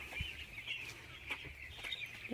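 A small group of young chickens peeping and clucking softly nearby, with a continuous high chattering of chirps and the odd low cluck.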